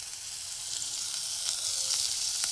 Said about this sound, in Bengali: পেঁয়াজগুলো আমি ভাজতে থাকব